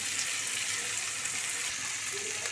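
Tomatoes, green chillies and curry leaves sauté in a pan with salt and turmeric, giving a faint, steady sizzle with soft broadband hiss and no voices over it.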